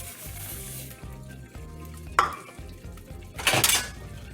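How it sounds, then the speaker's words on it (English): Rice poured into a paella pan over sizzling vegetables, with close scraping strokes of a stirring utensil and two louder bursts as the grains go in. "we're going to just get the rice in there."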